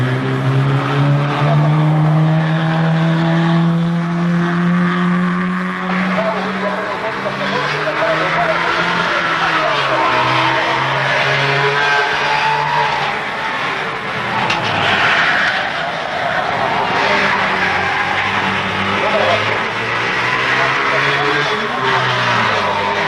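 Rally cars from 1968 roar along a special stage of the Rally of the Thousand Lakes on a dual carriageway, their engines loud and steady with rising and falling pitch as they pass, amid continuous noise.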